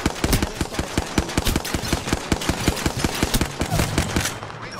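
Rapid automatic gunfire in the video game Apex Legends, a loud steady burst of evenly spaced shots that runs for several seconds before tapering off, with no speech.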